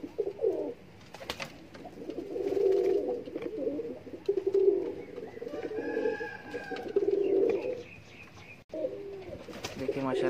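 Caged pigeons coo continuously in low, rolling bursts, close and fairly loud, with some wing flutters and scuffling in between.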